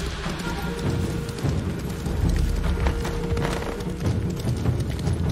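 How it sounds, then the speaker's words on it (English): Horse galloping at speed in the video game Ghost of Tsushima, a dense rumble of hoofbeats under a steady mix of game sound, close and loud throughout with no talking. "Damn her horse is fast."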